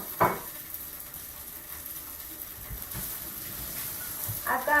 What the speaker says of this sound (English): I like to hear it sizzle when it hits the pan.